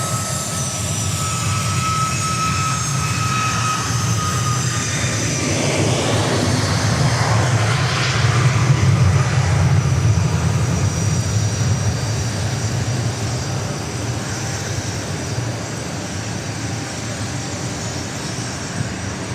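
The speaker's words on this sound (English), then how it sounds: "in the meantime, we've got a Southwest departure." A Southwest Airlines jet departing Dallas Love Field for Chicago Midway, a loud roaring jet engine that swells to a peak near the middle as the aircraft passes close, then recedes into a lingering rumble.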